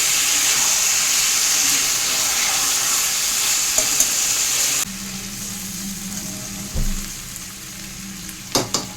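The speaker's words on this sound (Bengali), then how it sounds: "চিকেনটা দিয়ে দিয়েছি, এবার আমি ভালো করে কষিয়ে নিচ্ছি।" Chicken pieces and potatoes sizzle loudly in spiced masala in a pan as they are stirred. The hiss drops to a quieter fry partway through, and a few sharp spoon scrapes and knocks come near the end.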